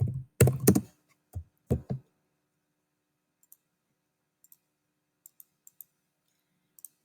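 Someone types on a computer keyboard. A few close, clustered clicks come first, then sparse, faint single keystrokes spaced out across a quiet stretch.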